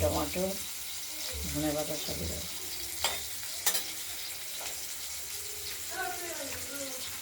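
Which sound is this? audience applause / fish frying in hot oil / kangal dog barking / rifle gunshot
fish frying in hot oil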